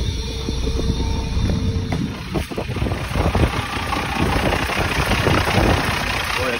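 An old school bus engine idles just after being started, giving a steady, close low rumble with rough mechanical clatter and some wind noise across the microphone.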